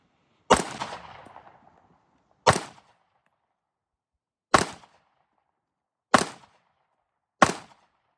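Five sharp, loud shots from a CZ P10C Ported pistol fired at an outdoor range, spaced irregularly about one to two seconds apart, the first followed by a brief ringing decay.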